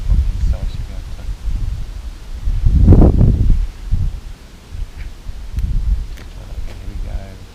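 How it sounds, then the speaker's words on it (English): Strong outdoor wind blowing a gale while a quadcopter is flown, heard as rumbling, buffeting gusts that swell and fade, loud and close on the microphone. "the wind, which is now deciding to blow a bloody gale, is not really helping my cause fantastically"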